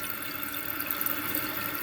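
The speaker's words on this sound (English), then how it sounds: "Notice I've got water flowing out of here." Water streams steadily from a newly replaced toilet fill valve, a close, constant hiss and trickle with no voices.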